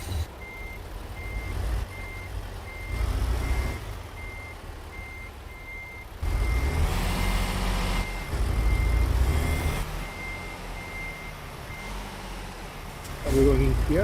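Truck reversing beeps from the Viva Trucking video game, a steady evenly spaced tone repeating through the whole stretch over low engine rumble, with a voice talking over parts of it.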